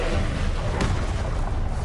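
A Confringo spell explodes in Hogwarts Legacy, a dense blast of noise with a short burst partway through, heard amid continuous roaring game sound.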